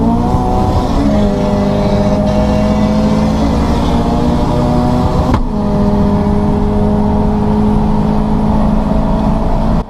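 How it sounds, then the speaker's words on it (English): Todd's 1600 race car, running on nitrous, accelerating hard from an onboard position, a loud, dense engine roar with rising harmonics climbing through the gears and a brief break at a shift, continuous and close throughout. "Todd's 1600 is a quick car, and on the bottle too."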